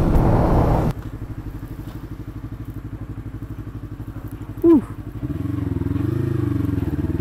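Motorcycle being ridden on the road in Miri, Sarawak, with a steady, close engine drone. A quick blip marks a gear change midway, then the engine note rises and settles at a new pitch.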